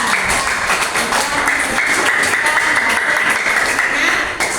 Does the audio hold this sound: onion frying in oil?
no